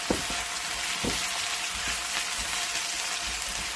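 Curry ingredients such as onion, curry leaf, cumin and green chili sizzle steadily in a pan, a constant close frying hiss with occasional stirring clicks.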